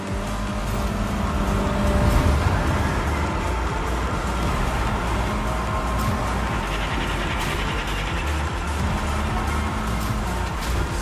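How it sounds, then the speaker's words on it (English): Cars drifting in Fortnite Rocket Racing: a continuous, loud engine roar with shifting pitch that holds steady throughout and has no breaks. "There's a lot of drifting."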